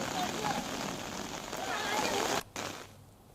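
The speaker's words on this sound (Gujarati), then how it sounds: "ગીર ગઢડામાં ધીમી ધારે વરસાદ જામ્યો છે।" Steady rain falls in Gir Gadhada, Gujarat, a dense continuous hiss of drops on surfaces that cuts out abruptly near the end, leaving quiet.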